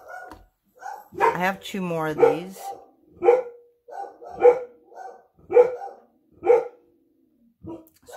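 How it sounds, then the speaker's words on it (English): Dogs barking indoors in a steady series of about six sharp, evenly spaced barks at moderate distance, following a few words spoken by a person nearby. "I don't know what they're barking at"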